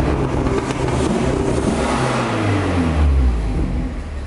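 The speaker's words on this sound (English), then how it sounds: "The car sounds like a lot less violent now." A Mitsubishi Lancer Evolution with a newly installed twin-scroll 20G turbo running, a deep, steady engine drone with a low tone that dips and swells as revs shift, close and loud.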